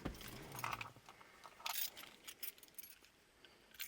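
Keys jangle and clink in short bursts close by, a metallic rattling that comes and goes at a quiet level.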